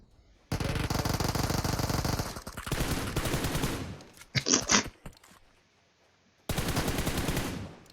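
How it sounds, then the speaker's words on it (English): Rapid automatic gunfire from a gunfight in PUBG Mobile on the Miramar map comes in three loud, close bursts, with brief quieter gaps and a short crunchy rattle in between. "They must have heard the gunfight and come to clean up the scraps."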